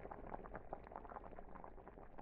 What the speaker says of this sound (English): The pot is boiling.